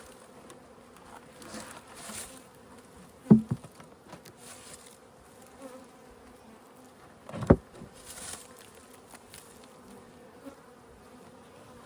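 Honey bees buzz steadily around an open hive during an inspection, a soft continuous hum close by, broken twice by sharp knocks or clatters from the hive equipment.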